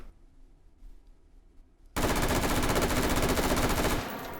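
An L85A2 rifle fires full-auto in a VR shooter game, a dense rapid burst of loud gunshots that starts abruptly after quiet handling noise and runs for about two seconds.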